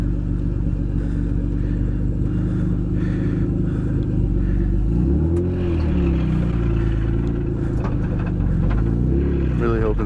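A turbocharged BMW E36 making roughly 300 wheel horsepower idles while warming up, a loud, steady, close engine rumble with a few slight revs and faint clatter, voices talking underneath.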